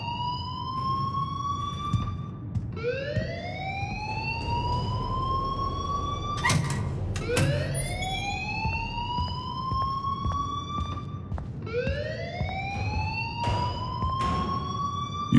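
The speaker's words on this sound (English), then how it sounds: "please turn off that alarm since that's your job" A loud electronic alarm wails in the Life Is Strange video game, its rising sweeps repeating every few seconds over a steady background rumble, with brief sharp tones cutting in.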